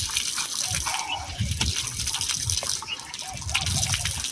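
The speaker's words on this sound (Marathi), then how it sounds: "पाणी मार." Water splashed onto a face during a village Holi wash-up, an irregular gushing and splattering close by, with lively voices in the background.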